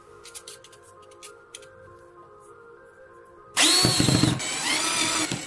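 A power drill bores through-holes in a plastic pipe in a workshop. A soft hum and faint rattling give way to a loud, sustained whine of the bit grinding through the plastic, close to the microphone.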